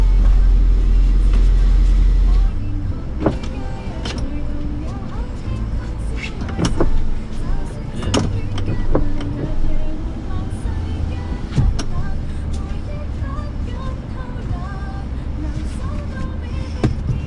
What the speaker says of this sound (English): So later on I roll down both front windows to get the antlers out.